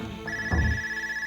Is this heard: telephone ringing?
yes